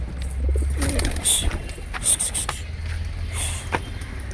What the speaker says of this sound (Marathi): बघा आपली एवढी सारी कबूतर आहे.